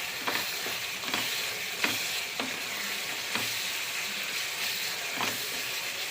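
Chicken masala fries in a pan with a steady loud sizzle, while a spoon stirs and scrapes against the pan in intermittent clinks and strokes.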